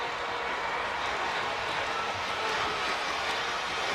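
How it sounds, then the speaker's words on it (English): A large stadium crowd at the Penn Relays track meet roars steadily and fairly distantly as runners round the bend in a relay race, a continuous broad wash of cheering with no clear breaks. "Listen to that crowd as they come around the bend."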